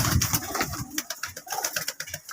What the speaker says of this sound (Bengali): এত সুন্দর একটা পায়রা